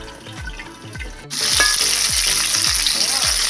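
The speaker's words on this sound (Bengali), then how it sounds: "তবে বেগুনটা ভাজা হয়ে গেছে, আমি তুলে নেব" Whole eggplants sizzle and fry in mustard oil, a loud, close spitting crackle with repeated clattering stirs, louder and denser after a brief pause partway through.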